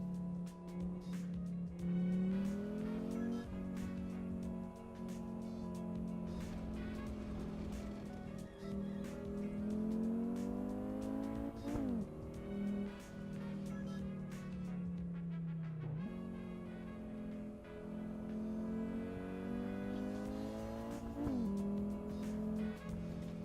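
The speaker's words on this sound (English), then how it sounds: "We're in Assetto Corsa, driving the shorter wheelbase Audi Sport Quattro" Engine of a short-wheelbase Audi Sport Quattro, the homologation rally car, driven in the Assetto Corsa racing sim: loud and continuous, climbing through the revs, dropping sharply at each gear change, with occasional tire noise and no talking.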